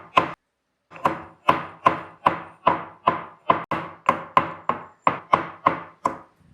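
Medicine tablets are pounded to pieces in a steady run of about fifteen sharp, evenly spaced knocks, close and loud, with a short pause after the first blow and no talking.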